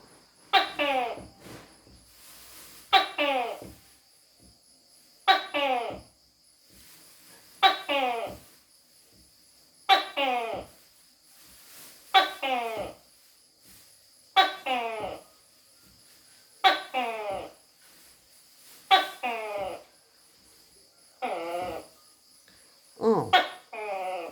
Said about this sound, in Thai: ได้ยินไหมคะเสียงตุ๊กแกร้องนะคะ